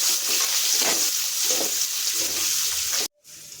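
Lengthwise-sliced onion sautés in a pan for a meal maker gravy, giving a constant bright sizzle with occasional stirring swells, then cutting off abruptly near the end.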